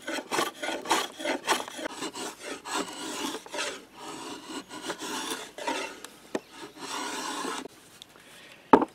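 A draw knife shaves the side edges of a wooden bow stave held on a shave horse, making repeated close rasping, scraping strokes in an uneven rhythm, with no talk.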